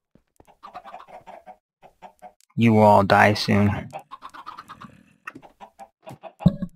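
Chickens cluck in Minecraft, short clucks scattered through the scene with one louder burst near the middle, while someone talks over them.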